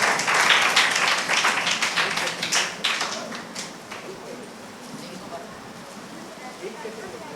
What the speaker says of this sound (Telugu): చప్పట్లు కొట్టి దేవుని నామానికి మహిమ కలుగు.